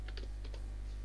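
Quiet keystrokes on a computer keyboard, a few separate taps in quick succession over a steady electrical hum.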